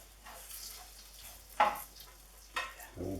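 Pear pieces caramelise in a frying pan, faint sizzling broken by a few brief scraping stirs, quiet and close.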